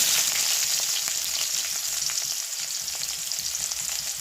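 Whole cumin seeds and onion hit hot oil for a tempering, right after prawns were fried in the same pan. A dense, steady, close sizzle holds throughout with no voices.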